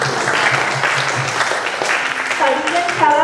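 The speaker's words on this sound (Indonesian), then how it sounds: "boleh tepuk tangannya" Audience applause at a church youth group talk, a loud, dense patter of many hands clapping, with a voice starting to speak near the end.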